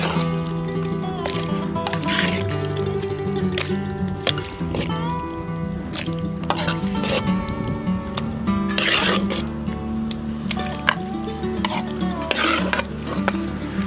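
Onion and tomato being ground by hand in a stone mortar, a steady run of scraping, knocking stone-on-stone strokes with occasional clinks, close and continuous in an outdoor village kitchen, no talking.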